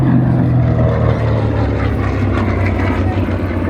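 A General Motors-built TBM Avenger, a heavy single-engine World War II aircraft, flies at an air show with a loud, continuous deep propeller drone and broad roar, while a commentator talks over it.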